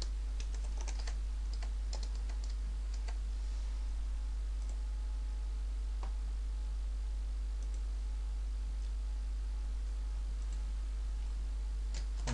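Someone types on a computer keyboard and presses the Tab key, giving fast, irregular clicking keystrokes in scattered bursts over a low, constant hum.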